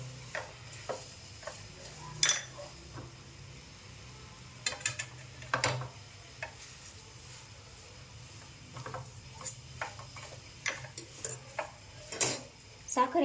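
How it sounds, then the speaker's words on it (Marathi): A spoon scrapes and clinks against a pan while sugar is stirred into carrot halwa, giving scattered, fairly quiet knocks and scrapes over soft background noise. "ती मिक्स करून घ्यायची आहे आपल्याला साखर।"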